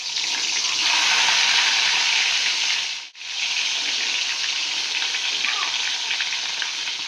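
Prawns hit hot mustard oil in a kadai and give a loud, steady hiss of frying that runs continuously, with one brief drop in the middle before the sizzle resumes.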